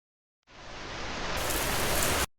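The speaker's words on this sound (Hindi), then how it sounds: "या हो तेज बारिश की बौछार" Heavy rain shower roaring as a steady, dense hiss that starts abruptly and cuts off after about two seconds, loud and close with no voices.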